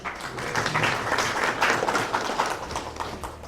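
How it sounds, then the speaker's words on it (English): A summit audience at a trade-for-peace gathering applauds a speaker, a steady, dense patter of many hands that holds at an even level from start to finish without a break. "Let's have a round of applause."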